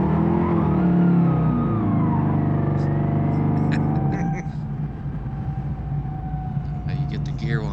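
Differential gear whine from a car, a sustained tonal whine under a steady engine drone that shifts in pitch partway through, with people talking over it.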